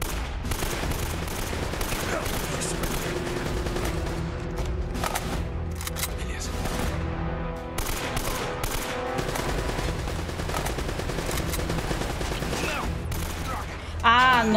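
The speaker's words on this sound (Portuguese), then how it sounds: "É um minigun." A minigun rattles in continuous, loud sustained bursts in Uncharted: Drake's Fortune, with gunfire layered densely throughout and a voice talking over the shooting.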